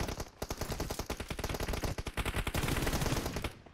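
Rapid automatic gunfire from a PUBG Mobile match crackles in dense, loud bursts for nearly four seconds, with shots fired close together and steady throughout.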